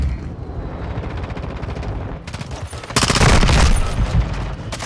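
Rapid bursts of gunfire aimed at an aircraft in the shooter game Modern Warfare 2, with loud repeated automatic shots that grow heavier and denser in the second half, close and dominant.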